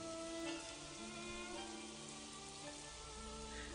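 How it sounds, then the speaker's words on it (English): Rain falls steadily in a Naruto Shippuden anime scene, a dense continuous patter and hiss at moderate level with faint background music and no voices. "I like the effect of rain in this anime."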